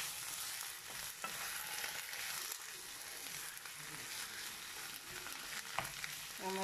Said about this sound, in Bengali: এখন আমি শাকটাকে নেড়ে ছেড়ে নেব